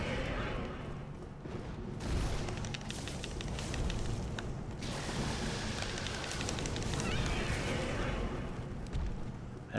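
Fire attack roaring against drakes in Dark Souls, a sustained rushing blaze with crackling bursts that swells and surges, broad and fairly loud throughout without talk.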